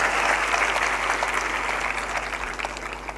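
A seated audience at a spiritual discourse gives dense, steady applause that carries on for the whole stretch without pause.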